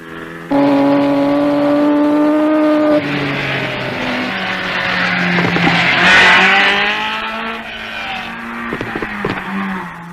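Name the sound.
white Alfa Romeo rally cars driving, 1958 Coupe des Alpes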